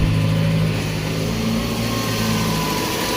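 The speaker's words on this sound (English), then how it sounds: "There we go, it revs up." A 2007 Jeep Compass 2.4L engine runs loudly and close, holding a raised, steady drone with faint tonal hum; the engine has a throttle fault.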